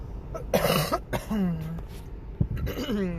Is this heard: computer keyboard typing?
no